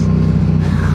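A motorcycle engine revving under throttle during an evening road ride, a loud, close, steady low rumble with the revs climbing slightly near the end, no voices.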